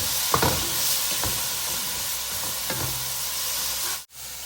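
Mint and chutney frying in a pan, a steady soft sizzle with a few faint stirring scrapes, close and alone before a brief dropout near the end.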